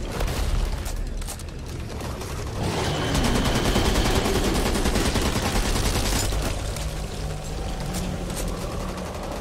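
Continuous loud gunfire from the video game Back 4 Blood, dense overlapping bursts and automatic fire with booming impacts, sustained throughout without pause and no talking.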